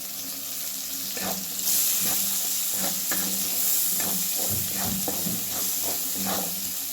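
Masala spices with red chilli powder roasting in a pan, a steady close sizzle with repeated soft scraping strokes of stirring and no talk.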